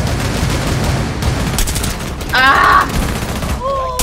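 Rapid bursts of automatic gunfire in Rainbow Six Siege crackle loudly and continuously at close range, with a short shout and brief voices over the shots.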